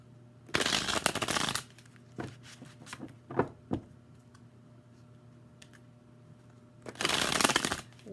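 A deck of playing cards is shuffled in two bursts of dense riffling, each about a second long, with a few soft card taps and handling clicks between them, close and fairly quiet.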